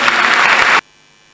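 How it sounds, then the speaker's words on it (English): Congregation applauding at a diaconate ordination, a loud, dense burst of clapping that stops abruptly, leaving near silence. "Dominic Kabla Amati Amwate, and a round of applause."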